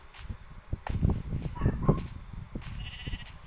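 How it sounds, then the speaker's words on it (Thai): Sheep bleat repeatedly in the Minecraft video game, several short nasal cries in quick succession against a busy in-game background. "โอ้โห เจ้าแกะน้อย"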